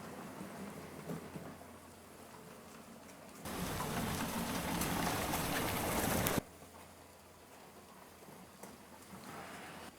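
A Vevor sweeper pushed along a dirt trail on a garage floor gives a sudden loud broad brushing rush for about three seconds, then cuts back to a quiet room hum.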